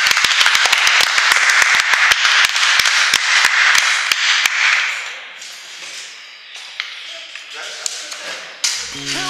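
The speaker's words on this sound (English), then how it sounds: "give yourselves a round of applause for hanging out with us on your day" Outdoor audience at a 2016 community peace event clapping in a brisk round of applause that starts sharp and dense, then thins out and fades as the crowd settles.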